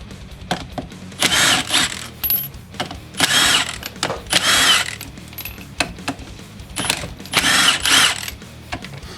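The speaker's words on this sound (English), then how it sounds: "So take each 5 bolts out right here." Five bolts backed out of a 4L60e automatic transmission pump during an overhaul, heard as several loud bursts of a power tool or ratchet whirring with clicks and pauses between, close up and without talking.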